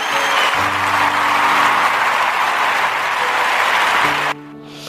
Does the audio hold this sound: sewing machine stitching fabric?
no